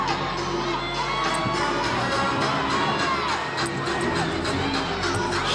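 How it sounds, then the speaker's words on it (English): Home crowd at an Auburn gymnastics meet roaring in loud, sustained cheers, with shouts and whoops rising over the arena din the whole time. "I think this Auburn crowd would absolutely erupt."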